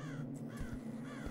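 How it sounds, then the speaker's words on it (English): A crow caws a few times in a video game, harsh repeated calls standing alone over a steady droning backdrop. "That's the crow."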